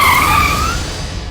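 A car brakes hard to a stop, its tires squealing loudly and close by in one sustained screech that slowly tapers off, with no voices over it.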